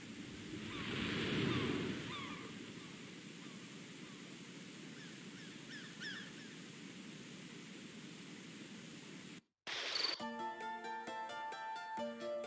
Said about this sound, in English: And there you can hear the waves crashing,